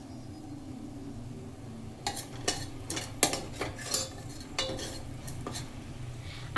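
A spoon stirring chicken curry in a pan, with soft sizzling underneath and a series of irregular metallic scrapes and clinks that start partway through and come and go.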